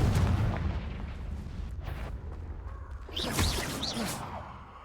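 A Confringo spell blast in a video game erupts as a heavy booming explosion with a rushing whoosh, followed by a second burst of fiery crackle and bright hissing debris near the end.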